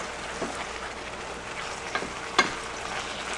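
Ingredients for enchilada sauce, including two 14.5-ounce cans, stirred together in a hot pan, with a soft steady sizzle and a few scraping strokes of a utensil, one sharper clink near the end.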